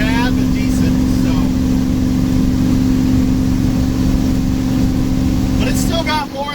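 A 1971 Chevy C10 pickup truck engine cruises at 55 to 60 mph, a loud, steady, droning hum with road noise filling the whole stretch, and a voice briefly audible over it.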